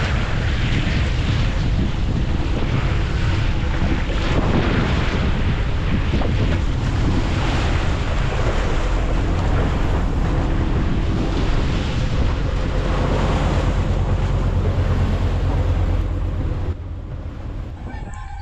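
Constant roaring monsoon wind buffets the microphone over the wash of Pacific Ocean waves off Aurora, Philippines, heard from a boat, loud and unbroken throughout.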